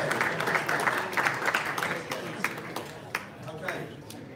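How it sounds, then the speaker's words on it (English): Audience applause at a boxing press conference for a Demetrius Andrade versus Akavov bout, a dense roomful of clapping that thins and fades toward the end, with talk mixed in over it. "I would like a round of applause for David and his hair"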